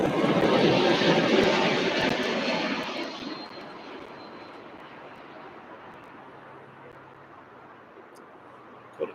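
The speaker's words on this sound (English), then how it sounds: "And here is the Maersk 767." A Star Air Boeing 767 jet operated for Maersk roars past at an airport, loud at first and then fading away into a distant hiss and low rumble.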